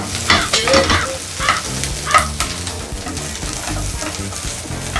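Ingredients for tom khlong with crispy snakeskin gourami are dry-roasted in a pan without oil, stirred constantly with loud, close scraping and rustling over a faint background sizzle.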